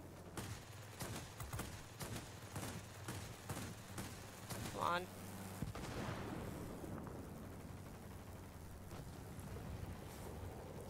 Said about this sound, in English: This guy's just dropping bombs on everything.